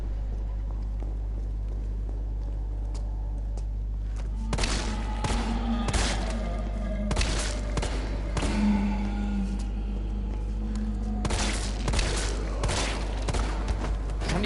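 Repeated gunshots fired at an enemy in Resident Evil 3 land as a run of close, sharp cracks in irregular clusters, with a steady low hum underneath.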